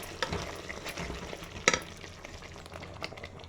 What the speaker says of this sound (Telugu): మసాలా అంతా బాగా కలుపుకుందాం.